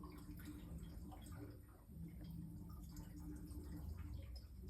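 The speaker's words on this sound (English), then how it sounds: "there's a lot of gurgling going on, which is all the pipes going up to the house," Water gurgling through draining hot-water heating pipes feeding radiators in a house, a faint, continuous bubbling trickle heard from a distance with occasional drips.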